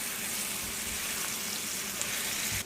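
Onions, dried tomatoes and peppers fry in a pot for a bean dish, giving a steady, dense sizzle with faint scraping as they are stirred; no one speaks.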